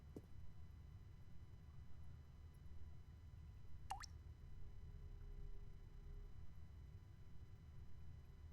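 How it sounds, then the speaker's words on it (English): In The Stanley Parable Ultra Deluxe, water drips once, a single clear plop at middle distance against a steady low ambient hum in a quiet game space. "I hear a drip."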